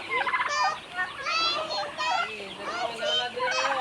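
Several turkeys gobble in rapid, overlapping bursts close by on a farm, with a voice briefly mixed in among the rattling calls.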